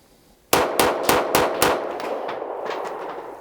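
Ruger 57 pistol fired at a close target, five sharp gunshots in quick succession with ringing echo trailing after, loud and near with no talk.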